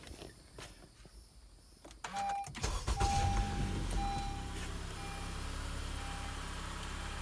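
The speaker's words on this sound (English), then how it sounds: "With our battery installed, it's now time to start the vehicle." A car engine cranks and catches after a new battery is fitted, then settles into a steady idle with a faint repeating electronic chime over it; quiet rustling comes before the start.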